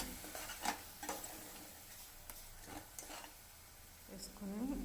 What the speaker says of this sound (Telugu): కొంచెం పచ్చివాసన పోయేంత వరకు ఫ్రై చేసుకోవాలి